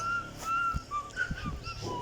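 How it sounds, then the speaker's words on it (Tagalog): Someone whistles a short, wavering melody of several notes, fairly close and clear, with faint thumps in the background. "sipol lang ako."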